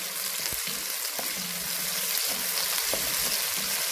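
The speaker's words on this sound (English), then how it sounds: "Then I add my onions to my pan." Onions frying in vegetable oil in a pan, a steady bright sizzle with soft irregular scraping of stirring running underneath throughout.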